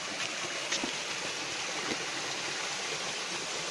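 Steady rushing water flows continuously from a stepwell, a broad even wash of sound with no voices.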